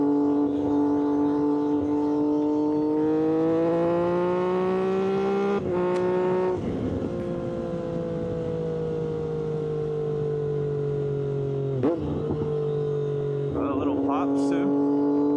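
A Triumph 765RS motorcycle with an aftermarket exhaust and tune on a ride, a steady, close engine drone that shifts pitch with brief breaks like gear changes, and a few sharp pops near the end.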